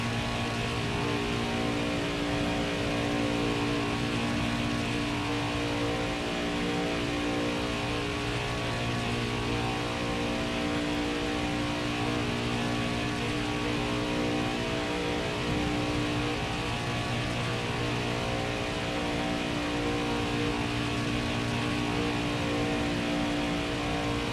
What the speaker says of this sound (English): Why does this car just sound bogged down?